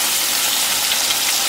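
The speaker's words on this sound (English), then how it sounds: "let that fry for about, I let my home fries go for about 5 to 8 minutes" Diced potatoes, onions and peppers fry in a pan for Southern home fries, making a dense, steady hiss and crackle of hot oil that is loud and close, with no talking.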